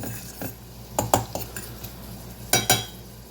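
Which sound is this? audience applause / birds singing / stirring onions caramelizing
stirring onions caramelizing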